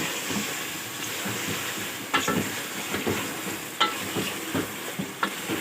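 A spoon stirs ground red chilli, turmeric and coriander in a hot pan for beef biryani, making a close, steady sizzle broken by a few sharp scrapes against the metal.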